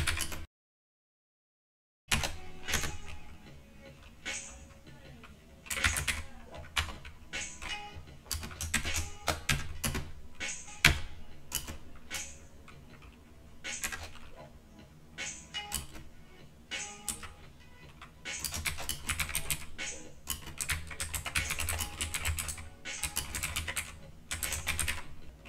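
Steady bursts of close computer keyboard typing as JavaScript code is entered, with quick irregular key clicks and brief pauses between runs, no talking.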